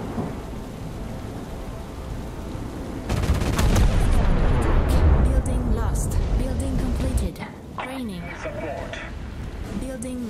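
Gunfire and heavy artillery blasts in a strategy war game, a sudden loud burst of rumbling explosions and rattling shots midway that cuts off abruptly, over steady background noise with game voice announcements.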